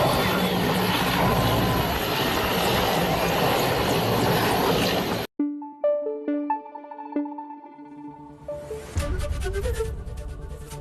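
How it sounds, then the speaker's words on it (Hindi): Indian Air Force rescue helicopter from a Bengaluru air force station, flying during a flood rescue; a loud, steady broadband rotor and engine roar fills the first half, then cuts off abruptly, with musical tones following. "वायुसेना का ये रेस्क्यू हेलीकॉप्टर बेंगलुरु के एयरफोर्स स्टेशन से आया था।"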